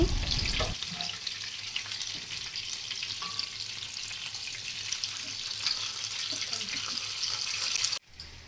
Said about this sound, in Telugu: సిమ్లో పెట్టి మూత పెట్టుకొని 5 మినిట్స్ వేయించుకుందాం